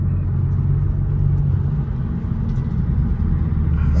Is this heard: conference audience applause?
no